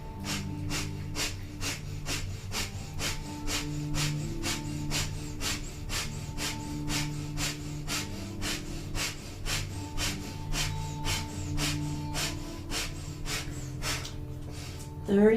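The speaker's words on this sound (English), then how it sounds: "So we'll begin 1 minute of breath of fire." Rapid, powerful rhythmic breath of fire from a kundalini yoga session, sharp nasal exhales pumping steadily at about two per second for the whole stretch, close and even, with soft music droning underneath.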